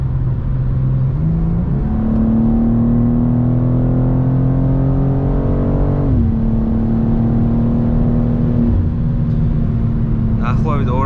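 A BMW M2 accelerates hard on a German autobahn, its engine note climbing steadily through the gears with brief dips at each shift, loud and close from inside the cabin, while someone talks over it.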